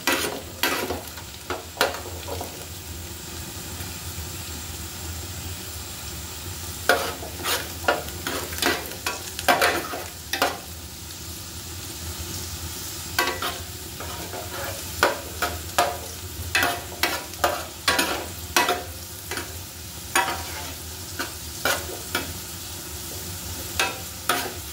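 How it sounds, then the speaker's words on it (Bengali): Garlic frying in hot butter in a pan for a vegetable egg soup, with a steady soft sizzle broken by repeated sharp scraping and stirring clatters of a utensil against the pan, close and fairly quiet, no voices. "রসুনটা হালকা আমি ব্রাউন করব।"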